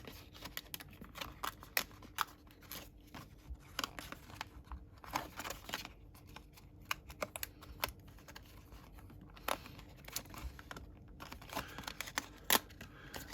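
Scissors snip through card stock, cutting out Christmas card pieces at a crafting table, with quiet, irregular clicks and rustles close by and no talking.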